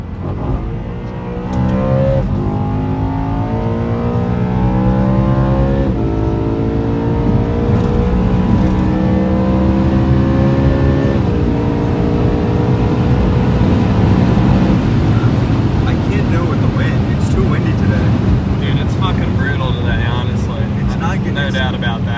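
A BMW E92 M3 with a naturally aspirated engine races on track, its loud revving rising and falling through gear changes, sustained close and steady for the whole stretch, with people talking over it.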